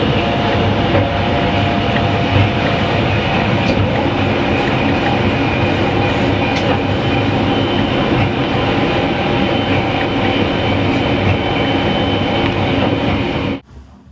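A passenger train rolls along the railway through Andalusia, a loud, continuous rumbling roar with clickety-clack of wheels and faint squeals heard from inside, holding steady before cutting off sharply near the end.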